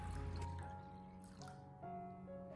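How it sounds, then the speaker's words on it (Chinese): Water runs and trickles into a bowl of oysters being washed, a soft continuous pour with faint drips, close and fairly quiet. "紧接着再往里面添加大量的清水"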